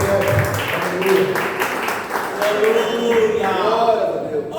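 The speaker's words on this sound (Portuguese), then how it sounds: "Palmas para o Senhor." Congregation at a church retreat clapping to welcome the pastor, a continuous mid-level patter of hands under voices speaking and calling out over it.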